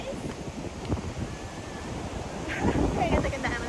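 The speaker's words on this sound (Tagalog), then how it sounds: "Palakas na ng palakas yung hangin na naman." Strong, rising wind gusts rumble across a microphone at the beach, with surf noise underneath. The gusts grow louder toward the end, and people talk faintly beneath them.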